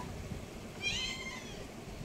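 A cat gives a single short, high meow partway through, fairly faint against a quiet room's steady background hiss.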